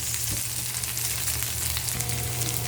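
Chopped onion lands in a pan of golden-brown frying garlic while cooking pansit bato, and a loud, steady sizzle and crackle fills the clip with no talking.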